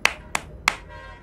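Three sharp hand claps ring out at an even, unhurried pace. They are close and crisp in a quiet room, and the last clap is slightly softer.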